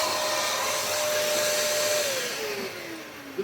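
A Dyson DC39 vacuum cleaner motor with no hose attached runs steadily at high speed, a loud airy roar with a whine that slowly falls in pitch near the end.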